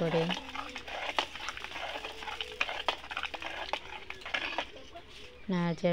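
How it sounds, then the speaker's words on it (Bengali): Khichuri mixed with spices is stirred in a kadai. A quiet run of scraping and clinking ladle strokes sits close by, with brief bits of voice near the end. "অল্প কিছু খিচুড়ি তুলে দিয়ে মশলা ছিল তো নেড়ে নেওয়া হচ্ছে"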